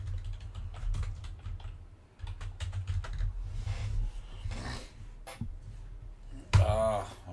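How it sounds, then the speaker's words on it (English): Rapid, irregular keystrokes on a computer keyboard, recorded close up over a steady low hum while a fishing launch spot is searched; one brief tonal sound cuts in near the end. "Let's type in Sugar Barge."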